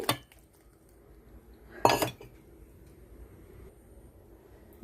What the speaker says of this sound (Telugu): నేను పోపులు ఇప్పుడు ఒక మిక్సీ గిన్నెలో వేసేసుకుందాము మిక్సీ జార్లో వేస్తానండి పచ్చి ఎల్లుల్లిపాయలు అలాగే చింతపండు